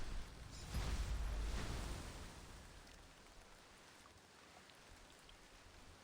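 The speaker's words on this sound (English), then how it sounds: "let's stop this rain." Rain falling in a steady soft hiss, swelling into a louder rushing surge early on before easing back to a faint even patter, with no voices.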